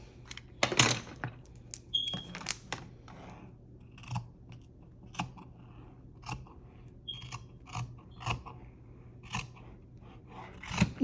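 Scissors cutting scrap sublimated fabric at close range, a series of sharp snips spaced irregularly with quiet pauses between them, no talking.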